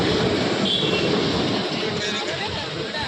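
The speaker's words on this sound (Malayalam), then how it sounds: "ട്രെയിൻ സ്പീഡ് എടുത്ത് തുടങ്ങി." A moving Executive Express train departing Alappuzha and gathering speed on the rails, heard as a steady, loud rumble and rattle of the carriages throughout, with faint background voices.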